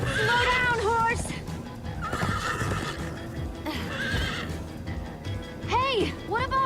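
Horse in Minecraft: Story Mode neighing in several rising, wavering whinnies spread across the clip, mixed with game background sound and voices talking between calls.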